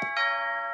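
A doorbell rings once with a clear two-tone chime. The second tone lingers and fades in an otherwise quiet room.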